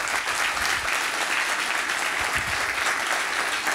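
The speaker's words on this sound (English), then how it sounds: "I just want to give them a round of applause." Sustained audience applause for a group of young volunteers from the Halifax area at a conference, a dense, steady wash of clapping held at even loudness throughout.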